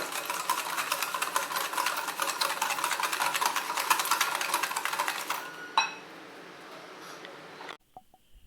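Sugar is stirred briskly in a bowl of eggless honey cake batter, a steady rhythmic scraping and swishing that runs continuously for several seconds, then stops, leaving a quieter kitchen background.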